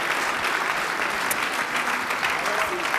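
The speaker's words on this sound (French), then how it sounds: "On peut encore applaudir tous les témoins, s'il vous plaît" Sustained applause fills a conference hall at a French CESE event as the audience honours witnesses from across France, many hands clapping in an even, crowded roar at moderate level.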